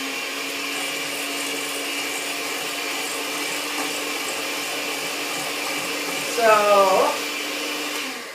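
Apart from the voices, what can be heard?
blender mixing egg yolks and sugar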